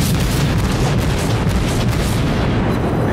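Torpedo hits explode on ships in the World of Warships naval battle game, a loud, dense wall of booming blasts and deep rumble running without a break, with no voices.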